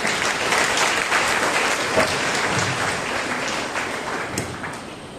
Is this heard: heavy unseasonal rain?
no